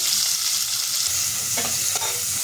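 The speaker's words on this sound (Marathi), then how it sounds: "तेल गरम करून त्याच्यामध्ये मोहरी टाकून घेते याच्यामध्ये लसूण टाकून घेतलेले आहे आणि कांदा हे परतून घ्यायचे" Onion sautéing in hot oil with mustard seeds and garlic gives a steady, close sizzle, with a couple of scraping stirs near the end and no voices.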